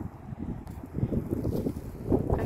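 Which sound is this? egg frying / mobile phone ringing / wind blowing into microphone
wind blowing into microphone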